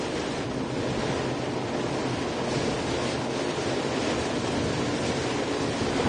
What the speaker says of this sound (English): It's got some strong wind in it down here.